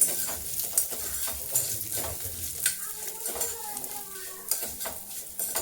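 Vermicelli being roasted in a pan until reddish, with a spoon scraping and stirring against the metal over a soft, continuous sizzle, close and moderately quiet.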